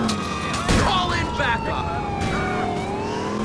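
An ambulance siren wails and sweeps up and down during a police chase in GTA 4, loud and close over engine noise, with a voice shouting briefly.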